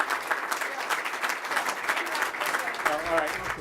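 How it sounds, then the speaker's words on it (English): Audience applause at the Elmhurst Chamber of Commerce & Industry Awards Gala, a dense, sustained burst of clapping from a large crowd with voices talking over it toward the end. "You can keep applauding if you like."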